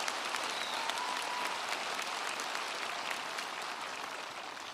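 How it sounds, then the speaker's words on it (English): Sustained, dense applause fills a college commencement hall at Alvin College, a broad wash of many hands clapping together that holds steady and tapers slightly toward the end. "Please give them your applause."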